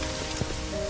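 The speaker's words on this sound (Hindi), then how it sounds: "सरला, तुम इतनी तेज बारिश में यहाँ घर के बाहर क्यों खड़ी हो?" Heavy rain pours steadily outside a house in a Hindi story scene, a dense, even hiss of drops on surfaces filling the short moment with no voices.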